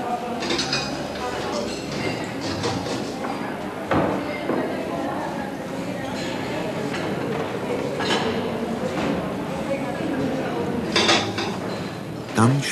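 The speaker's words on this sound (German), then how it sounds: "Dann spült sie Teller um Teller mit der Hand im Waschwandel ab." Plates clink and clatter continuously as dishes are washed by hand in a 1960s Oktoberfest kitchen, with sharp knocks now and then and people talking over the steady washing noise.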